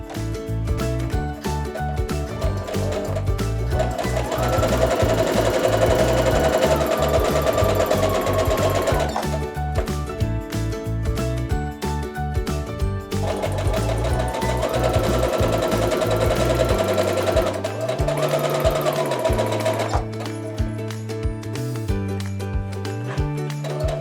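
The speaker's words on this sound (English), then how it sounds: "I'm just going to do that by putting them right sides together and sewing my scant 1/4 inch seam" Sewing machine stitching quarter square triangles placed right sides together with a scant 1/4 inch seam: a steady, continuous mechanical whir running loud and close for the whole stretch, with a brief change in pace partway through.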